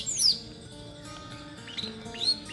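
Caged songbird kept at a home, giving bright high chirps and short whistled calls, close and clear, with a brief burst at the start and another near the end over a quiet room.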